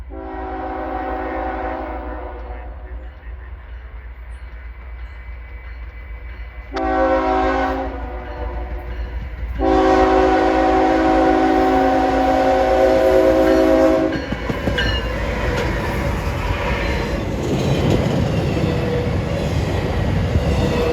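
Freight train I-008, a St. Louis Rose Lake Yard to North Bergen run, passes at Iona Island with its horn sounding in several loud blasts over a steady rumble and clatter of rolling cars that continues after the horn stops.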